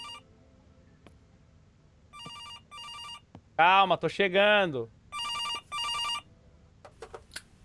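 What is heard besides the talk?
telephone ringing in horror video game September 7th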